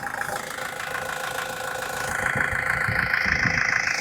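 A Mahindra Scorpio engine idles steadily with a low mechanical hum, growing slightly louder and rougher halfway through, with no voices.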